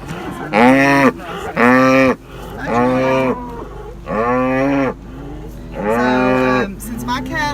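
Grass-fed cattle on a farm moo close by in five long, loud calls, each a drawn-out, throaty low with steady pauses between them.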